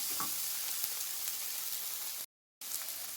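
Prawn roast masala sizzles and fries steadily in a pan as it is stirred. The bright, continuous crackle runs close and even, broken once by a brief dropout to silence.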